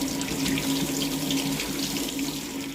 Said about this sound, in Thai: ล้างให้สะอาด ด้วยน้ำเปล่าของเรานะครับ